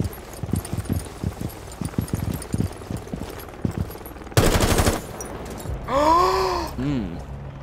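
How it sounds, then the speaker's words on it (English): A quick burst of rapid gunfire from the shooter game Rainbow Six Siege rattles loud and close, coming after a stretch of scattered thumps and footsteps and followed by a strained vocal groan. "That was random shots."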